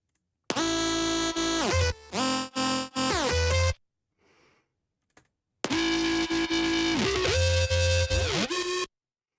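Synthesizer tones with dense harmonic stacks sweep and shift as the wavetable position changes, including pure FM sine waves, played in sustained bursts with a short quiet gap partway through.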